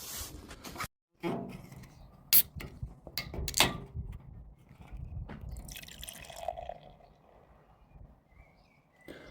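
Ale is poured into a glass, heard as scattered close drips, glugs and clinks with pauses between them, fairly quiet with no talk.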